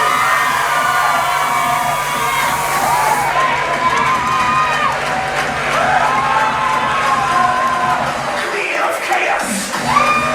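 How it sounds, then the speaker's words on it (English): A wrestling crowd cheers and roars loudly throughout, a dense sustained wall of voices with shouting peaks, and a brief dip near the end. "Oh, the crowd is going to go insane."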